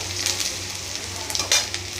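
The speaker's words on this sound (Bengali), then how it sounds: "পেঁয়াজগুলো ভাজা হোক" Onions fry in a pan with a steady, close crackling sizzle, a few louder pops rising out of the even hiss.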